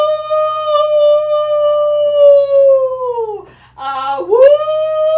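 A storyteller at a Norse myth show imitates a wolf howl siren with his own voice, a loud sustained howl that slides down, breaks briefly, then rises again into a wavering howl.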